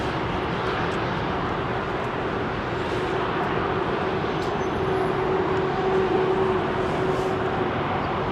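A China Eastern Airbus A330 departing runway 27R at London Heathrow produces a steady, broad jet roar that holds loud and close for the whole stretch, with no voices over it.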